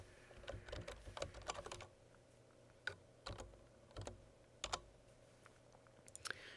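Keys clack on a computer keyboard as a file name is typed, in quick bursts of clicks with short pauses between them, faint and close.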